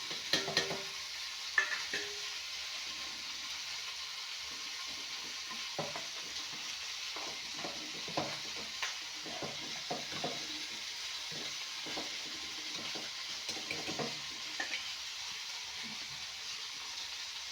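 Turmeric, coriander powder and chilli powder fry in oil in a pan, with a steady sizzle and repeated scraping stirs of a spoon throughout, nobody speaking.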